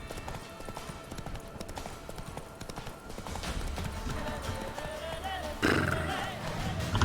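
A horse in The Witcher 3: Wild Hunt clip-clops steadily along a path with in-game ambience, then gives a loud snort or whinny near the end, while talk runs underneath.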